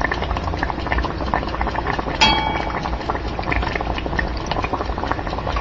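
An Oreo deep-fries in hot oil in a pan, giving a loud, dense, continuous bubbling crackle close up, with one brief sharp clink partway through and no talking.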